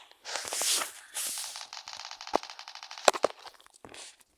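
Gunshots in a Roblox shooter game: a noisy opening burst, then a rapid rattling run of shots and a few sharp separate cracks, fairly loud and with no talk.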